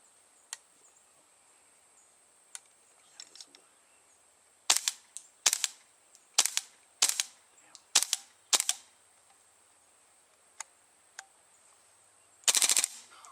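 A KWA AKG KCR airsoft gas gun fires BBs in a string of sharp, loud cracking shots, roughly six in a fairly even rhythm, with a few fainter clicks before and a final burst near the end.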